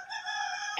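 Rooster crowing in the cockfighting video game Manok na Pula, a single sustained, bright crow heard alone and close, cutting off sharply at the end.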